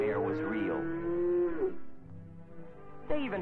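Ranch cattle low with drawn-out, wavering moos, one long call followed by a shorter one starting near the end, fairly close and clear over a soft background.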